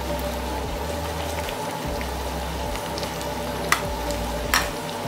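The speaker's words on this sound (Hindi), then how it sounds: "एक साइड फ्लिप कर लेती हूँ दूसरी तरफ भी अच्छी तरह से फ्राई कर लेती हूँ" Bonda sizzle in hot oil in a pan over a medium flame, a loud steady crackle with a low bubbling bed, broken by a couple of sharper pops.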